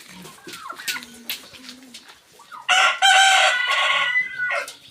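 A rooster crows loudly partway through, a long strained call, after quieter clucking and scattered bird sounds.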